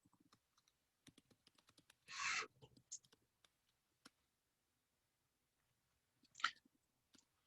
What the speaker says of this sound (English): I'm just typing that answer in